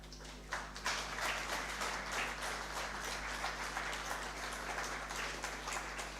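Audience applause honoring farmers and community groups at an indigenous seeds and food culture harvest fair: steady, dense clapping from a crowd that holds throughout at moderate volume, with a low hum underneath.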